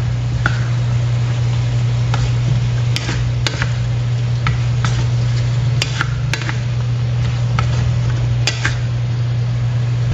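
Spices for chicken curry, including coriander powder, black pepper and turmeric, being mixed with a utensil in a pot, heard as scattered light clinks and scrapes over a loud, steady fan-like hum, with no voices.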